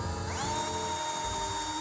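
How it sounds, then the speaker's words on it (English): A power drill bores into a wooden sacrifice board at a right angle, giving a steady, loud whirring motor tone that rises briefly in pitch at the start and then holds level, with no speech. "we're gonna try to drill in a 90 degrees angle"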